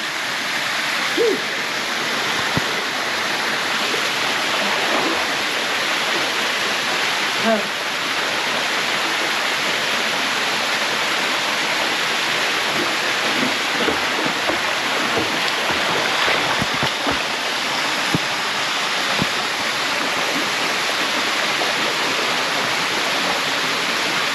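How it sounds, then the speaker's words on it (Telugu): Steady broadband rush of Ranajilleda waterfall in Araku pouring and splashing, constant and full throughout, with faint occasional voices beneath the roar. "వాటర్ అయితే పడుతున్నాయి, చల్లగా ఉంది."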